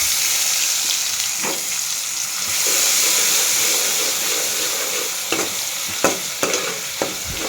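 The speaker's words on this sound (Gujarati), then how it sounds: "ટમેટું સાતળી જાય ત્યાં સુધી રહેવા દેવું" Chopped tomatoes sauté in a pan for an onion vegetable dish, giving a steady sizzle with stirring scrapes and a few sharper clinks of the spoon near the end; no one speaks.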